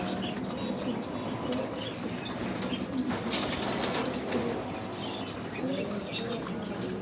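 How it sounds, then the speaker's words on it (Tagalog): Pet pigeons flutter and coo around their coop, with wing flaps and soft bird calls over steady background noise and some faint voices in the distance. "Ito yung aking mga lagang kalabati."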